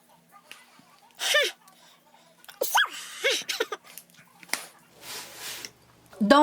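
A person sneezes indoors, a sharp burst of breath among scattered vocal sounds and breathy noises, with quiet pauses between them.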